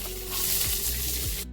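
Chopped onions frying in oil with mustard seeds and cumin for a simple paneer curry, a steady broad sizzle lasting about a second and a half before cutting off abruptly.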